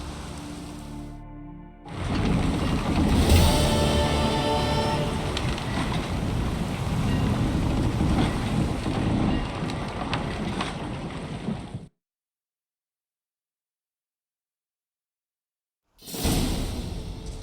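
Steady rushing wash of water and wind from a sailing boat at sea in The Witcher 3, loud and continuous for about ten seconds, cutting to silence before the rush briefly returns.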